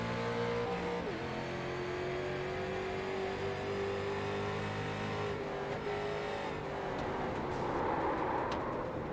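A race car engine keeps running after being refired, heard from an onboard racing camera: a steady, loud mechanical drone with a slight shift in pitch, no voices.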